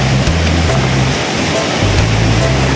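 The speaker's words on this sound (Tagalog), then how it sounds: "Grabe po ang tunog ng mga tubig ah" The rushing water of San Luis falls roars as a loud, dense, unbroken wash, close by and steady, with a low hum pulsing underneath and no voices.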